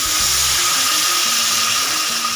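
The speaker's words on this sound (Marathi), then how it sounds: "अशा पद्धतीने मी इथं गरम पाणी घालून घेणार आहे।" Hot water poured into a simmering sev bhaji curry, a steady loud rushing splash close by with a low bubbling undertone, no voices.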